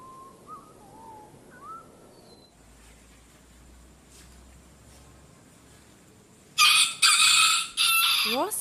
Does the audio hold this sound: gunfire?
no